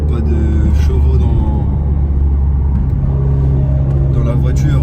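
Four-wheel-drive car heard from inside the cabin, its engine droning loud and steady with a deep rumble as it accelerates, and people talking over the noise.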